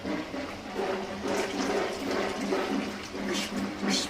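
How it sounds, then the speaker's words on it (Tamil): Tamarind water poured into a boiling fish curry gives a steady rushing, splashing pour with a few brighter spatters, close by, with no one talking. "அந்த டைம் புளி தண்ணி ஊற்றிக்கலாம்."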